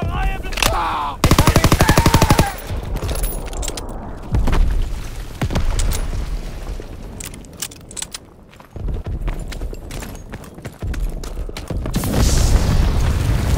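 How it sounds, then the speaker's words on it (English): Artillery explosions and gunfire fill a D-Day beach landing in the video game Call of Duty WWII, with a loud machine-gun burst, heavy booms and scattered shots mixed with clatter and footsteps throughout. "Artillery's hit the beach!"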